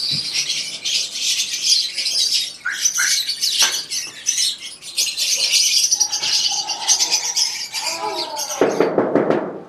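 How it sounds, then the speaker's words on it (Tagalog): A dun fallow pet bird squawks and chirps almost without pause, with rough, scratchy calls and a few fluttering bursts, close by and with no talk. "Ito na yung ibon natin."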